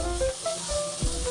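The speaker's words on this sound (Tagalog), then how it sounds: "ilalagay ko na yung carrots para medyo maprito-prito." Carrots sizzle and fry in a hot pan for a misua with meatballs dish, a steady bright hiss with a couple of soft stirring bumps, close and fairly loud with no talking.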